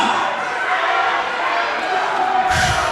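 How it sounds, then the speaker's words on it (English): A rabid crowd at a live wrestling event roars and cheers continuously and loudly, with a heavy thud near the end. "My God, this crowd is rabid right now."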